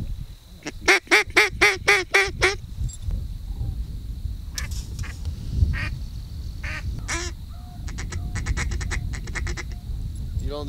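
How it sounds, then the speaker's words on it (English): A rapid run of loud, nasal duck quacks opens, followed by scattered quacks and honks further off over faint background noise. "Here come more ducks."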